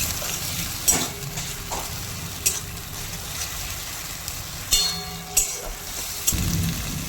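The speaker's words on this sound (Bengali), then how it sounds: "এবার এটাকে আমি ভালো করে কষিয়ে নেবো 1 মিনিট ধরে" Ginger, garlic and dried chili paste sizzles in a pan over a low steady hiss, with several sharp spatula scrapes and clinks against the metal.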